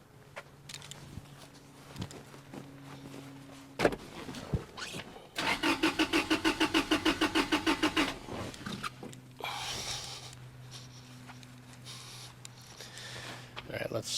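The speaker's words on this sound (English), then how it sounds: "I'm gonna go crank it and see if we've got a crank signal on here." A 1996 Toyota Tacoma engine cranks without starting: a fast, even, chugging starter rhythm lasts about three seconds mid-clip, set against quieter shop background noise before and after.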